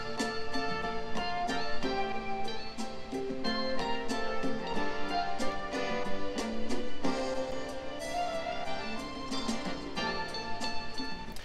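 A looped soul music sample with layered melodic chords repeating steadily, ending its sequence with a turnaround phrase; no drums or voices, moderately loud throughout.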